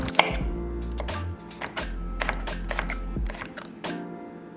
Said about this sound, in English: take your garlic and peel it, and roughly slice it